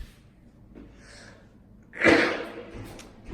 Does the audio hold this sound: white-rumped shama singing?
no